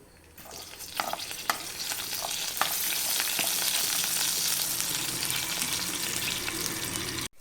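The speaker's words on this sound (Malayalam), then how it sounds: "എണ്ണ ചൂടായി ഇതിലേക്ക് കടുകും മറ്റുന്നോടും ഇട്ടെടുക്കുക" Mustard seeds and split lentils splutter in hot oil for spinach thoran, with a dense, continuous sizzle close by, scattered sharp pops and stirring clatter, ending abruptly.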